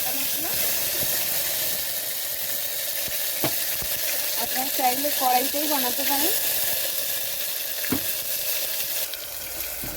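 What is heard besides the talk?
ground spice paste added to hot oil, sizzling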